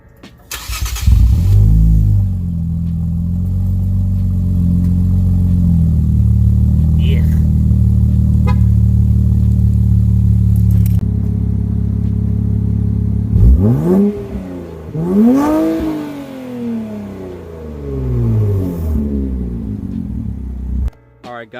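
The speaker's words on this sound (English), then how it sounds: "some of you guys want to hear how the car sounds like with pretty much low downpipes and Rev 9 mid-pipe and Y-pipe with resonators" Infiniti Q50 with low downpipes, a Rev 9 mid-pipe and a Y-pipe with resonators, running on stock mufflers, idles with a deep steady drone for a long stretch, then gets two or three sharp, loud revs that surge and fall back.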